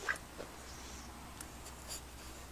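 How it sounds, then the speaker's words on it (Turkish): A hand writing the letter Z with a pen or pencil on paper, a few faint, short scratching strokes close by in a quiet room. "Bak ben buradan Z kezi yazıyorum."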